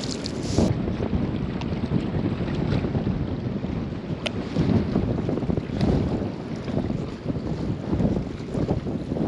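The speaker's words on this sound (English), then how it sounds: "This wind is pushing us at like 100 miles an hour." Strong wind blowing along a dam shoreline, a loud continuous roar buffeting the microphone with gusty swells and lapping water underneath, no talking.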